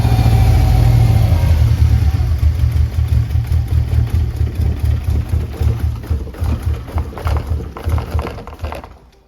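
A 2007 Subaru Outback engine with low fuel pressure idles loud and close, a steady rumble that turns into uneven, pulsing chugs before fading out near the end.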